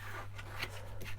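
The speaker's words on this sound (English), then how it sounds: "Just get my scissors, I think, and cut it down to a more manageable" Scissors snip through paper while trimming a junk journal envelope piece at a craft table, with a few soft, quick cuts close by against a faint steady hum.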